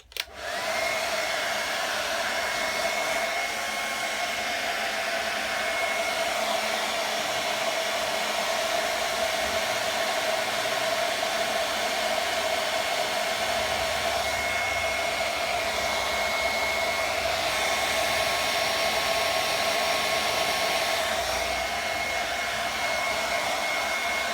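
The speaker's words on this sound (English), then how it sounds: "I'm just going to dry that off with a hairdryer." A hair dryer blows continuously at a steady pitch over a painted Boba Fett helmet, a constant close-up whirring hum that barely changes from start to finish.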